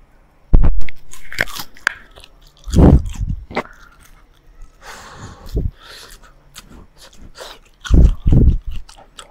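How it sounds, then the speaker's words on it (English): Crisp bites and crunchy chewing of golden fried tofu, crispy outside and tender inside, come in several loud, close bursts separated by short pauses, with soft breathing between bites. "The tofu is now crispy on the outside. You can hear the sound"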